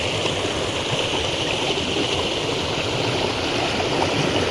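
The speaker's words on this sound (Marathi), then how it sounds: "हा आहे पर्या जो डोंगर दऱ्यातून पावसाळ्यातील पाणी वाहत येणारा" A steady rushing monsoon stream flows down from the hills, dense and fairly loud, with no voices and no breaks.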